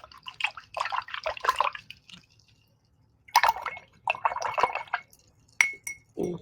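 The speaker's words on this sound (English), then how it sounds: "All right, so I'm going to wash my brush." A paintbrush being washed in a water container during acrylic painting, with close, crisp drips, splashes and clinks of the brush against glass in irregular bursts separated by short pauses.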